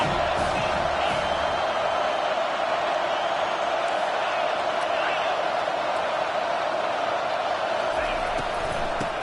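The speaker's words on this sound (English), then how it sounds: "Decibels rising as the crowd gets behind this defense on 3rd down." A stadium crowd in a football video game roars on third down, a loud, dense, unbroken wall of cheering that holds steady the whole time with no lulls.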